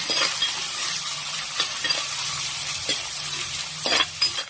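Food sizzles steadily in a hot pan while a utensil stirs and scrapes, with occasional soft clinks and no talking, while frying ingredients for Kerala beef curry.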